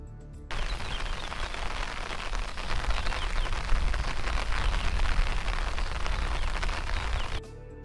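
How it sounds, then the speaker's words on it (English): Recorded rain sounds play back as a dense, steady hiss and patter of rain on a surface, loud and continuous for several seconds with no voices, starting and stopping abruptly. "I imported 27 seconds of rain sounds clip."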